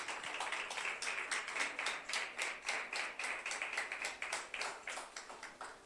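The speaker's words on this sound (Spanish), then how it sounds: "Denle un aplauso de alabanza al Señor." Rhythmic clapping from a church congregation during a Spanish-language sermon, steady evenly spaced claps in unison over several seconds, moderately loud with no talking.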